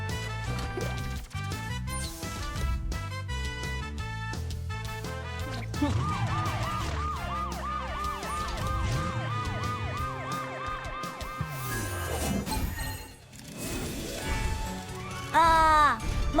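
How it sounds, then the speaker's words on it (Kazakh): A police car siren wails in an animated children's cartoon about a little bus at a dinosaur museum, rising and falling repeatedly in the middle of the stretch over busy background music. "Енді мен Гордон полиция көлігімін."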